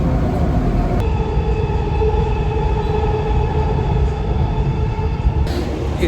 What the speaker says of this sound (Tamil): Al-Qiyada, the final destination of this train is Creek.